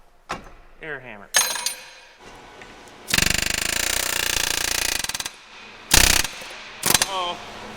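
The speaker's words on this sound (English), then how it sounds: "air hammer." Pneumatic air hammer rattling against seized pins on a machine, a loud sustained burst of rapid hammering for about two seconds followed by two short sharp bursts, with a voice speaking briefly in between.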